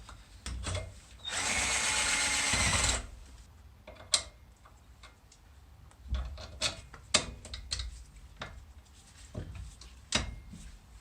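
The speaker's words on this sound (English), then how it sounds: "So I'm gonna just drill that out slightly more" A power drill bores out a coilover mount hole while Corsa B front coilovers are fitted to a Nissan Micra K11, giving one loud whirring burst of about a second and a half, followed by clicks and clanks of tools and parts.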